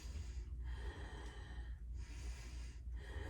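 Slow, deep breaths during a vinyasa yoga flow into revolved half moon pose, three long airy inhales and exhales rising and falling in a steady rhythm, close and alone with no talk.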